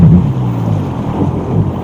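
A Sea-Doo Spark jet ski doing a gentle donut on rippled water, with a low engine drone mixed with wind buffeting and water wash, fairly loud and continuous.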